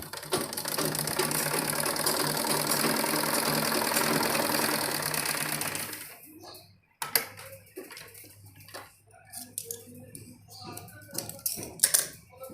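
Sewing machine stitching baby dress fabric, a fast dense mechanical whirring for about six seconds that then stops, followed by quiet scattered handling clicks and rustles.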